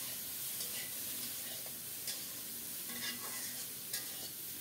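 Cauliflower fries in a pan with a soft steady sizzle, broken by a few scraping stirs of a spoon; quiet and close, with no talking.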